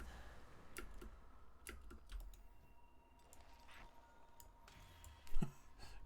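Computer keyboard keys tapped in scattered, fairly quiet clicks with uneven gaps, one louder thump near the end, under faint game background sound from World of Warcraft.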